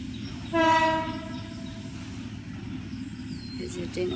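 A long intercity train passes, opening with a loud horn blast before the steady rumble of the carriages rolling by, with crickets faintly in the background.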